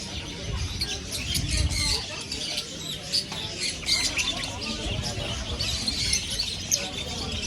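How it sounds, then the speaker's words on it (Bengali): Caged birds at an Iranian market in Qatar keep up a dense, continuous chorus of high chirps and squawks, with market hubbub and faint voices underneath. "এই যে এখানে সব ধরনের পাখি আছে।"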